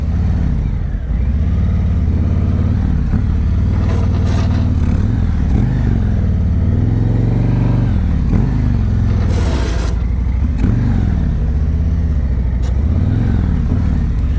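A motorcycle engine idles and revs steadily at low speed during an advanced slow-speed riding practice session in Texas, loud and continuous, with a rising and falling drone and some light clatter.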